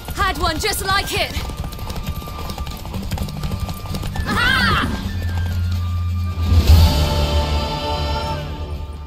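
A mare neighing and hooves clip-clopping in the Witcher 3 video game, a whinny rising over rhythmic hoofbeats, with game dialogue and music underneath.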